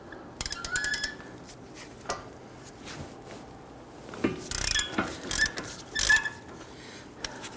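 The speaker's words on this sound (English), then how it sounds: "let's go ahead and loosen our upper bolt." A ratchet clicks in short bursts while the upper hub bolt on a 2011-2023 Dodge Charger is loosened, with scattered metallic clanks of tools up close.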